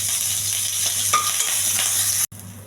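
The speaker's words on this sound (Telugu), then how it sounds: "కరివేపాకు బాగా ఎగించాలి." Curry leaves frying in a pan with oil give a steady bright sizzle and crackle, with a few stirring scrapes and a low hum underneath, then a brief cutout near the end.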